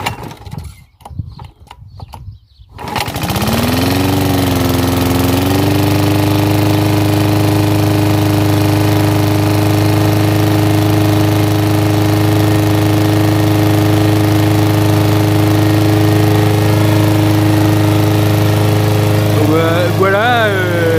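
A Wolf 46 cm lawn mower with a Tecumseh engine sputters to life after a few seconds of quieter sounds and possible talk, then roars steadily and loudly at full throttle with a constant droning hum.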